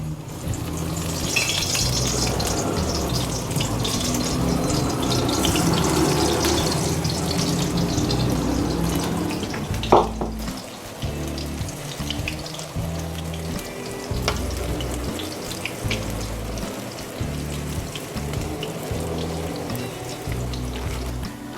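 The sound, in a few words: spinach pakoras deep-frying in hot oil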